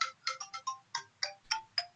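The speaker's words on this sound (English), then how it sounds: "Is that your phone ringing?" A phone alarm rings in a rapid, bright electronic melody of short tonal chirps repeating at an even pace, clear and fairly close with nothing else heard.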